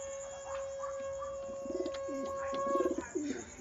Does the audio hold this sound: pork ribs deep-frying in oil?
no